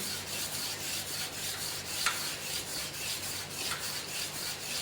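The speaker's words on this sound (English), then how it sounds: "The first step of polishing using the emery sheet," A brass workpiece rubbed by hand with 120-grade emery sheet, producing a close, continuous gritty scraping hiss in even back-and-forth strokes with a faint tap or two.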